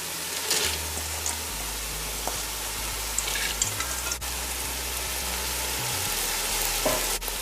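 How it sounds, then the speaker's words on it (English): Washed dhal goes into a hot cooking pot, with a continuous sizzling, frying hiss and a few soft stirring scrapes and clinks. No one talks. "I'm going to add the dhal now."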